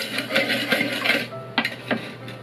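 Soft scraping and clinking of a utensil stirring a sauce of mirin, soy sauce and white vinegar in a bowl, a few light taps standing out near the end over a low steady hum.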